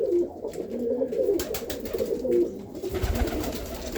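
Racing pigeons coo inside a loft holding about forty birds, a close, overlapping chorus of low throaty rolling calls running continuously, with a few faint bumps and flutters in the background.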